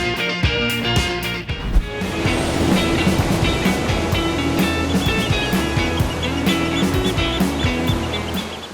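Ocean waves breaking on a quiet beach in South Garut, Indonesia: a loud, continuous surf roar with a steady tonal layer running through it, no voices.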